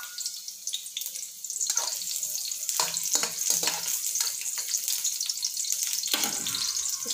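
Onions dropped into hot cooking oil, which rises to a loud, steady frying sizzle with bursts of crackle and stirring, close and without talk.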